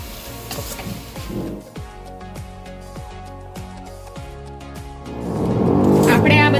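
Spring onion and vegetables are stirred in a hot pan with a crackling sizzle under a person talking, and the frying swells much louder toward the end.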